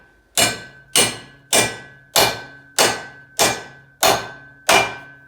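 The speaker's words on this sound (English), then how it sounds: "when you're hammering it in there, you can tell a sound change whenever you're tapping on that thing" Eight evenly spaced sharp metallic hammer taps on a U-joint bearing being driven into a multi-piece drive shaft for a Crown Vic swap, close and loud with ringing decay, no talk.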